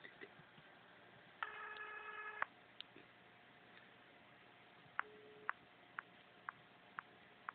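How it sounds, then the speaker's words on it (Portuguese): A phone line gives a quiet electronic tone burst followed by a regular series of short clicks and beeps, consistent with a busy signal on a call, with no talk over it. "Usuário ocupado e desligou."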